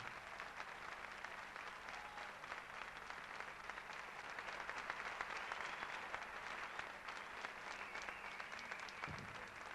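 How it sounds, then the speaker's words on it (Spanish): A theater crowd applauding steadily, a dense even patter of many hands clapping at once that carries on without a break. "un fuerte aplauso para mí"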